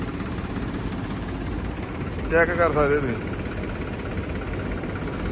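An old tractor with a double-tyre trolley idles with a steady low engine rumble in the background while someone speaks briefly over it.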